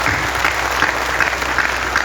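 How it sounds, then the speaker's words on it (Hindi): Loud, continuous applause from an outdoor crowd at a Hindi poetry gathering (kavi sammelan) on a Ramlila ground, a thick roar of clapping hands heard alone with no voices. "मुझे भी तालियों की गड़गड़ाहट अच्छी लगती है।"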